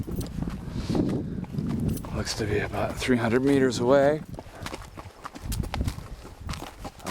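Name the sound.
horse hooves clip-clopping on a ride up a volcano trail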